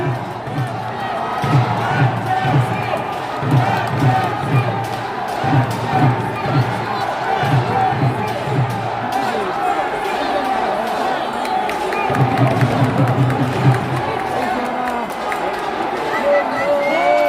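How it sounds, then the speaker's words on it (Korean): Crowd noise fills a Korean party leaders' joint speech rally in a Goyang gymnasium, with steady cheering, chanting and rhythmic clapping from a large audience. "안철수 후보께 다시 한번 큰 박수 보내주시기 바랍니다"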